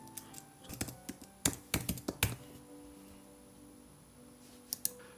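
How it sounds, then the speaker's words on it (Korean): Fingers type an email address and password on a computer keyboard with quick, close key clicks. A busy run of taps and a few sharper strokes give way to quiet, then two final presses. "내가 아까 만들었던 이메일 주소와 비밀번호를 입력합니다."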